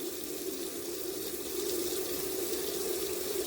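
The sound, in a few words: rinsing lentils under running tap water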